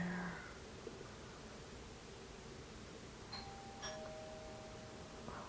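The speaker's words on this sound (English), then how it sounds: "Who is ringing my doorbell?" Faint doorbell chime rings twice in a quiet room at a distance, soft tones fading over a low background hiss.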